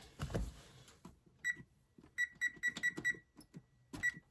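A kitchen timer is set and then chirps in a series of short, high beeps, some spaced and some in quick runs, over faint handling clatter in a quiet kitchen while candy bakes in the oven.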